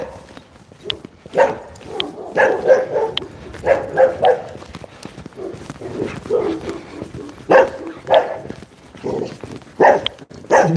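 Several dogs bark repeatedly at another dog out in a forest near a fireplace, loud irregular volleys of barks and yips close by, with brief lulls between bursts.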